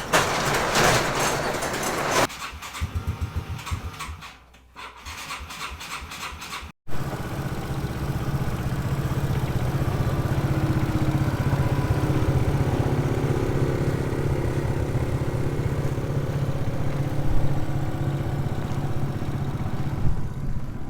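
A miniature train, set up with a fog machine, starts up for a test ride: a rough mechanical rattle and pauses, then a steady engine drone with rhythmic chugging that continues close by and fairly loud.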